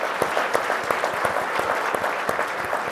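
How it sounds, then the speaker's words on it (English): A seated audience at a Catholic refugee panel event claps steadily for two resettled men, a moderate, even patter of hands that continues throughout without voices. "Let's give them a round of applause."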